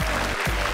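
A short burst of audience applause on a television talent show after a taekwondo demonstration, dense clapping that fills the brief moment.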